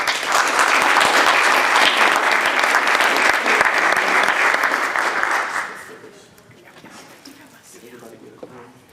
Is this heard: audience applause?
yes